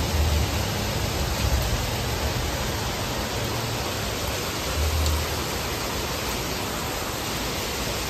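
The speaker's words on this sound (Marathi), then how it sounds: "किती मोठा पाऊस आहे." Heavy rain pours steadily onto a road during a thunderstorm, a dense, continuous broadband hiss filling the whole clip at a constant level with no speech.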